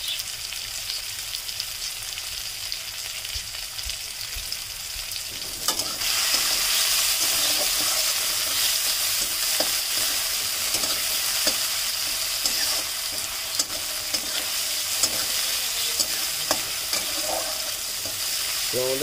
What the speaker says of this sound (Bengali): এটা একটু ভাজা ভাজা হওয়ার জন্য আমাদেরকে অপেক্ষা করতে হবে।